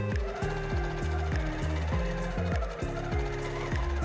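A sewing machine stitches quilt fabric in quick rhythmic bursts of mechanical whirring and needle chatter, steady and close, with brief pauses between runs and no voices.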